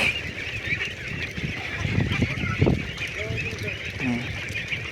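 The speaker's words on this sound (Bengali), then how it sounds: "এই দেখেন সবগুলো হাঁসই নামাইতেছে আজকে।" Ducks on a duck farm are let out onto the water, and a flock keeps up a busy stream of honking quacks, close and fairly loud, with people talking in the background.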